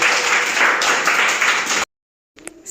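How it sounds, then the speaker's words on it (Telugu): Schoolchildren in a primary classroom clap together for a classmate, a dense, steady burst of applause that stops abruptly, followed after a short pause by a faint tap and a few scattered claps. "క్లాప్స్ హర్షకి"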